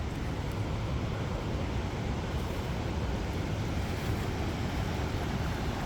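Loud, steady rush of a swollen mountain stream running high, roaring continuously up close, a dense broadband wash with no voices.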